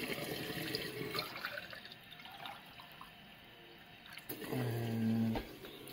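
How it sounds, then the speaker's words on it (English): Water poured from a pint pub glass into a cooking pan, a soft steady splash and trickle that swells louder near the end, close by with no talk. "add 2 pints of water using my Liberated from the local pub glass"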